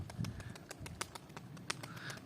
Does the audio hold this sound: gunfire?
no